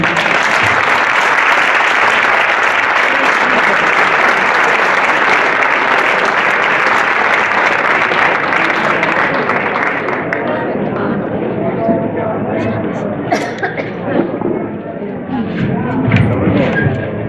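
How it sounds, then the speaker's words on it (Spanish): Sustained, loud audience applause fills a hall at a flamenco award ceremony in Córdoba's Real Círculo de la Amistad, dense at first and thinning slightly toward the end, with some crowd murmur underneath. "un fuerte aplauso para esta entrega de premios"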